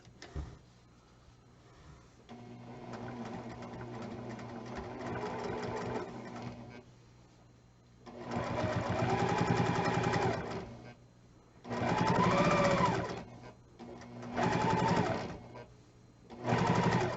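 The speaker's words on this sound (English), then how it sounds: "And sew 1/4 inch." A sewing machine runs close by, stitching a quarter-inch seam on a fabric pillow piece in several bursts of steady whirring, with short pauses between runs and no talking.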